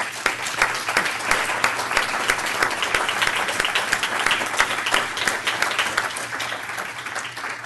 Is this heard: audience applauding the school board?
yes